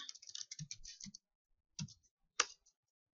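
A few quick bursts of computer keyboard typing while entering C++ loop code, clustered taps in the first second, then two short isolated clicks after pauses, close and fairly quiet.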